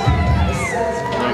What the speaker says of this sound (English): Little kid booing.